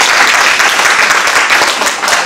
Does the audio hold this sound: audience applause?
yes